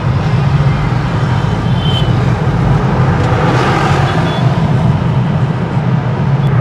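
A car rolls across painted road marking lines at about twenty km/h, its tires and engine producing a steady loud roadway rumble with faint ridged texture, close and continuous without pauses.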